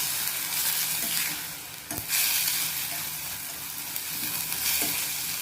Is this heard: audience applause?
no